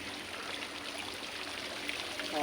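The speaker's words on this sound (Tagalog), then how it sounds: "Shower muna kayo dito." Water runs steadily from an outdoor poolside shower at a resort hotel, a continuous close splashing stream with no talk.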